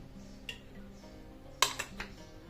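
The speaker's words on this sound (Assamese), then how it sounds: "ইয়াত লৈছোঁ এটা কেৰাহী, ইয়াত দি ল'ম মিঠাতেল" A wok is set down in a home kitchen for a quick breakfast before mustard oil goes in, giving a few quiet metallic clinks and taps against a hushed room.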